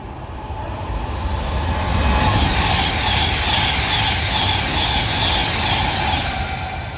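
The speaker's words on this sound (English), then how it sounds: "Approaching here on platform 1 is going to be a Pendolino passing through" A Pendolino class 390 express passing through a West Coast Main Line station on platform 1, a loud sustained rush and rumble with whining wheel noise and rhythmic clatter across the whole stretch, close by and with no voices.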